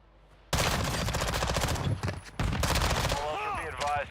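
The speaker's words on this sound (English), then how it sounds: "You hear him shooting at him." Rapid automatic gunfire in Call of Duty DMZ, loud, close bursts of fast shots that break off briefly and start again, with a voice and high electronic chirps near the end.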